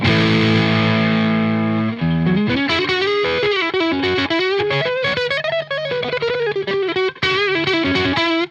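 A distorted electric guitar, a Charvel Jake E. Lee signature hardtail superstrat on the neck pickup, sustains a chord, then plays a loud, full-toned melodic lead with bends and quick picked notes.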